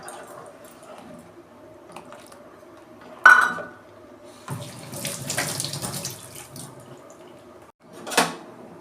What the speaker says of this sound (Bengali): এই যে গুঁড়ো দুধটা আমি গুলে রেখেছিলাম দিয়ে দিচ্ছি।